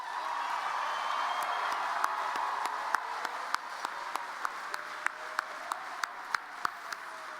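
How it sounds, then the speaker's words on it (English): A large commencement audience applauds graduates in steady, dense clapping heard from some distance in a big hall, with a few sharper individual claps standing out near the microphone. "let's give our graduates one final round of applause."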